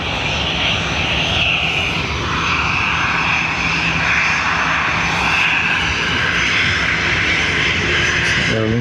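Aer Lingus jet airliner departing Dublin Airport for Dubrovnik, its engines roaring loudly and steadily throughout at close range, with a broad sustained rumble and hiss.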